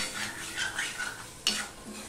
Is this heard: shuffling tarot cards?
no